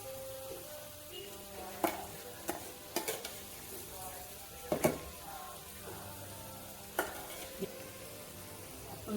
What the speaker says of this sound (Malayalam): ഒന്ന് ജസ്റ്റ് ഇളക്കി കൊടുക്കാം.